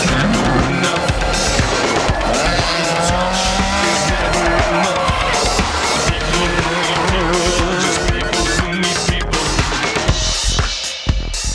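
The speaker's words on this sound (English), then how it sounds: "Going sideways with the National Rally runners as they pilot their tail-happy machines down the classic Killarney stages" National Rally cars slide sideways through the Killarney stages of the 2010 Rally of the Lakes, engines roaring loud and continuous at high revs with tyres squealing and gravel spraying as they pass close.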